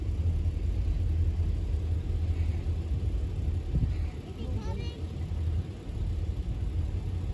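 Low, steady rumble of an approaching Norfolk Southern train at a grade crossing on the Pulaski District, distant and continuous, with a faint horn-like tone briefly rising and someone speaking nearby.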